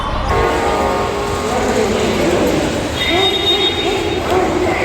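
A Haldia local train at a platform of Howrah station, with a loud steady rumble of the train and station, a sustained tonal hum like a horn or motor whine, and a drifting higher squeal near the end.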